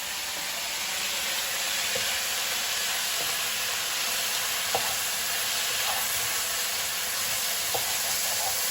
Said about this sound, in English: You want to give it a nice stir.